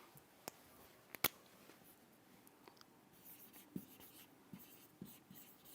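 Writing on a board during an English lesson: faint scratchy marker or chalk strokes with a few sharp taps, quiet and close, with no talking.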